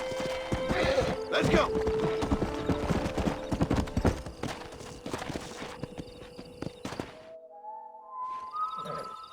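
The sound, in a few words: horse galloping and whinnying in the video game Red Dead Redemption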